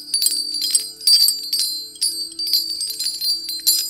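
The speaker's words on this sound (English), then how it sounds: "It's really hard to make these bells ring." Small bells ring in a quick series of bright, tinkling bursts with brief gaps between them, clear and close, with no voices.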